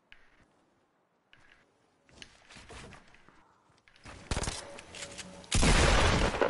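Submachine gun fire in an online shooter video game, scattered shots at first and then loud sustained bursts of rapid fire building to a dense, continuous volley at the end.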